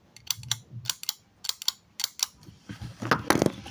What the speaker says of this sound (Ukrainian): Клікер дуже прикольно, з дуже красивим звуком.